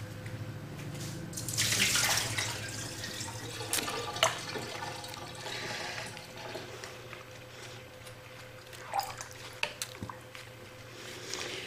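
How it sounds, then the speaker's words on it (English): Warm water is poured out of a container during mug making with sublimation wraps, giving a close splashing gush early on that tapers into softer trickles and drips. "we might need to dump some more water out"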